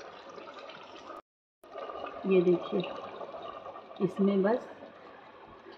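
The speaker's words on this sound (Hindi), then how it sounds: "मैं इतना ही पानी दे रही हूँ," Water is poured into a pot of mutton boti being cooked for Eid, giving a couple of short splashy bursts while someone talks over the kitchen sounds.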